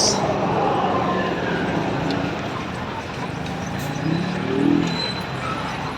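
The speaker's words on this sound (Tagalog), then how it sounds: "Ang daming mga sasakyan." Many vehicles on a busy street make a dense, steady din of engines and road noise, with voices talking nearby and a swell of a passing vehicle late on.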